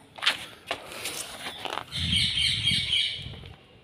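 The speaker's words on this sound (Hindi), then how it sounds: "यहाँ से दाने उठा के कबूतरों को दे देता हूँ।" Pigeons being fed grain make sharp chirps and brief calls, then a burst of wing flapping and scuffling close by, fairly faint overall.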